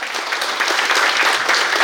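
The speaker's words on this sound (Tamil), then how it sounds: "அதுக்காகவே ஒரு" Audience at a Women's Day event applauding, with dense, loud clapping filling the whole brief stretch.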